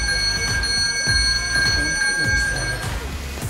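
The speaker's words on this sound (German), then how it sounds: "Ich habe ein neues Portemonnaie und es ist ein Smart Wallet und das klingelt, wenn es geklaut wird." A smart wallet alarm rings with a sustained, shrill electronic tone made of steady high pitched pitches. It sounds close and constant over low room rumble and shuffling noises.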